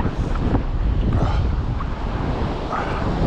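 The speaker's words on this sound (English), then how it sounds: "it's fucking windy." Strong wind on a beach buffets the microphone in a constant low roar, with gusty swells and no voices.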